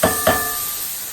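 Sausage sauteing in a hot pan: two quick clattering hits of metal and pan noise at the start, then a soft, steady sizzle and hiss fading under the following second.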